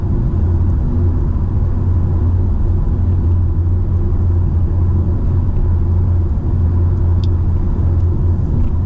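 Steady car interior drone on the M1 motorway heading north, a constant low engine and road rumble with tyre noise running unbroken and loud throughout.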